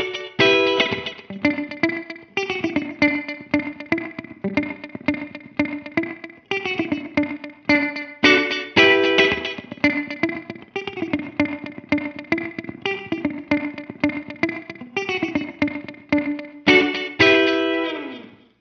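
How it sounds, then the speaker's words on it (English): Electric guitar played through a Source Audio Collider stereo delay and reverb pedal, rhythmic strummed and picked chords with repeating echoes and a lush reverb tail, loud and alone with no talking. "giving you a studio quality reverb pedal and the studio quality delay pedal in one box."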